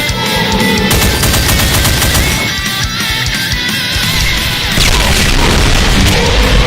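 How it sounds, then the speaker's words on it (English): Rapid bursts of plasma cannon fire from a Revenant variant in a Doom mod, a dense, relentless barrage of booming shots and crashes that stays loud throughout. "charge up dual ion beams, which unleash a massive spread of plasmatic cannon shots"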